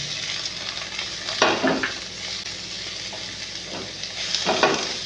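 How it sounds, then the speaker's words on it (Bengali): Chopped tomato, onion and cumin frying in a pan, a continuous sizzle broken by a few sharp scraping stirs of the spoon, loud and close with no talk. "টমেটো কুচি দিয়ে একটু নেড়ে নেব"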